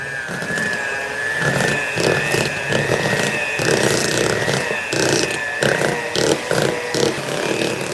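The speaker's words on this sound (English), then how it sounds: "With my amazing, beautiful best friend hand mixer, I'm going to mix these two ingredients." A steady whirring electric hand mixer motor drones continuously, with a high whine and rattling grind as beaters churn cheesecake ingredients, close and loud throughout.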